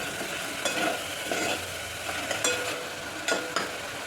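Onions sautéing with salt in a pan for a paneer dish, steady soft sizzle broken by repeated close spatula scrapes and stirs, no voices.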